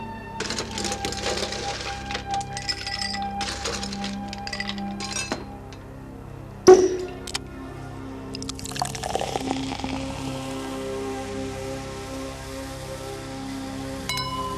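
Glasses clink together in a toast during an audio drama, several light chinks and a brighter strike near the middle, followed by a soft pour of liquid, with quiet room tone and no talk.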